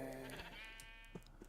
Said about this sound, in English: the barn is full of sheep